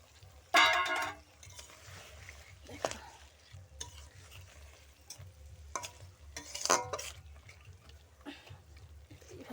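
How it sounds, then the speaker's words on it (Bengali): Coconut milk is stirred into a simmering prawn malaikari in a pan, with a sharp splash and sizzle at the start, then soft scraping stirs and bubbling that flare again near the middle. "আমি নারকেলের দুধটা দিয়ে দিচ্ছি।"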